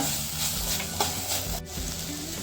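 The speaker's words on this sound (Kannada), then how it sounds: "ಸ್ಪ್ರಿಂಗ್ ಆನಿಯನ್ ಕೂಡ ಹಾಕೋದಕ್ಕೇನೆ. ಸ್ವಲ್ಪ ಹೀಗೇನೆ ಹುರಿಯುವ." Chopped spring onions fry in an oiled pan for Indian masala pasta, with a close, steady, bright sizzle that runs without a break.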